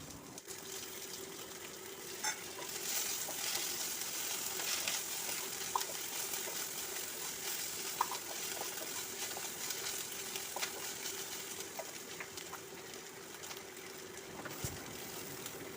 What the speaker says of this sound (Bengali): এরপর ভেজে রাখা পেঁয়াজ, রসুন, কালো জিরে, তার সঙ্গে কাঁচা লঙ্কা ও আদা দিয়ে আমি একটু ভেজে নিলাম।